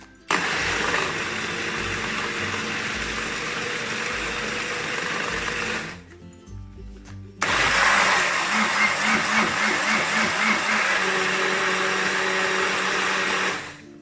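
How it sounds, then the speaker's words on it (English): A blender blending jalapeño, black pepper and pineapple hot sauce whirs loudly for several seconds, cuts out briefly, then roars back on steadily until the end. "Get it off the blender and give it a go"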